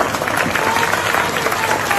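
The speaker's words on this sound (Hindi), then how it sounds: "उनका जोरदार ताली बजाकर स्वागत करें।" Loud, dense applause from a large crowd welcoming the Chief Minister of Madhya Pradesh at a public event in Rewa, steady clapping filling the whole moment.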